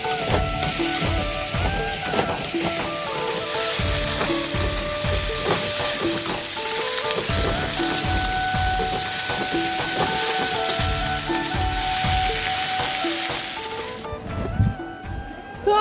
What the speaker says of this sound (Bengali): মাছের জন্য মশলাটা কিন্তু ভেজে নেবো চলো এটাকে ভেজে নিয়ে পেস্ট করে তারপর রান্না করবো